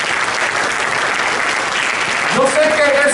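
A church congregation gives a round of applause, a light, even patter of hands throughout, with a voice cutting in near the end.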